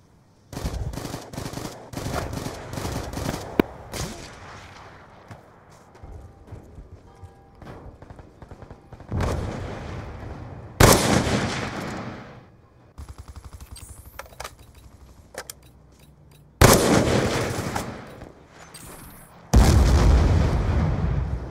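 Gunfire in Call of Duty: Black Ops II, with rapid bursts of automatic shots early on, then several loud, sharp blasts spaced apart through the rest of the match, close and punchy.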